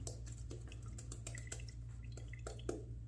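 Quiet, irregular drips and small splashes of water fall into a bathroom sink after a razor is rinsed, over a low steady hum.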